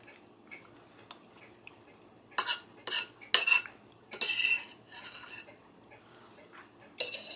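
Spoon scraping and clinking inside a pouch of Philly cheese steak noodles, a few sharp bursts of scraping and rustling scattered between quiet gaps, close and faint.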